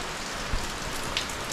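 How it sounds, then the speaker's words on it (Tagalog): Heavy rain pours down steadily in Campanalig, a dense, continuous hiss of drops on surfaces with no voices and only small swells in intensity. "tuloy-tuloy pa rin po yung ulan"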